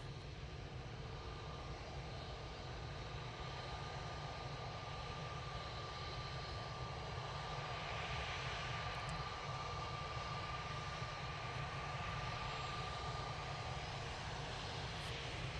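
Aircraft on short final landing at Manchester Airport, a continuous, moderately distant engine roar with a faint steady whine running through it at an even level.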